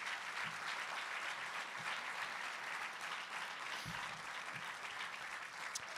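An audience at a State of the City address gives a steady round of applause, many hands clapping evenly for six seconds, with a few louder individual claps standing out.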